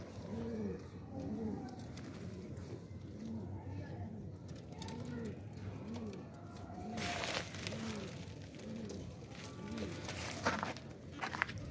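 Pigeons, some sitting on eggs, coo repeatedly in a low, rolling rhythm, with footsteps and scattered rustling and knocks around them.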